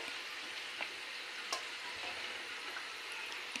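Pata pitha fry in hot oil with a faint, steady sizzle and hiss, marked by a few small pops and crackles, quiet and close with no talking.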